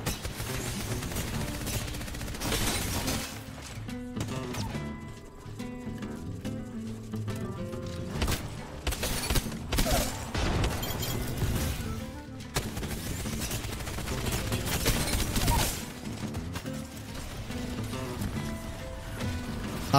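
Rapid bursts of automatic gunfire and sharp shots in a fast Apex Legends firefight, dense and loud throughout with brief pauses between volleys.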